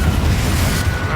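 A loud boom from the Confringo blasting spell in the wizarding game Hogwarts Legacy, a dense low rumbling explosion that fills the whole short moment.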